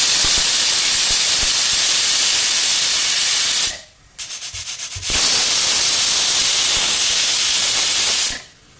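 A pressure cooker holding green peas releases steam in loud, continuous hissing jets, broken by a brief pause with a rattling pulse before the hiss resumes and stops again.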